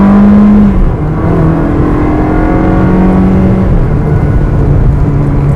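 Ferrari 360 Spider (2004) accelerating through a turn: a loud, close engine note that dips briefly, then climbs steadily in pitch as the revs build. No one speaks.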